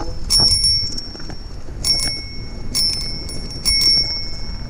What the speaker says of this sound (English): I mean, I have a bell, but I'm kind of embarrassed to do this.